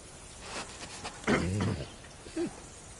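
A dog in Kingdom Come: Deliverance II gives a short whining bark followed by a brief yelp, close and fairly loud over a low background hum.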